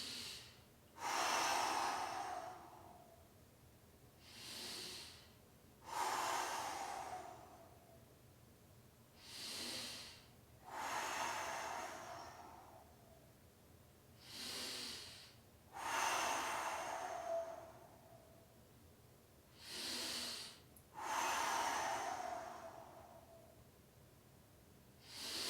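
Heavy exercise breaths during a timed breathing set, each a loud, forceful hiss of inhaling and exhaling, repeated steadily about every two to three seconds for the whole stretch, close up and with no talking.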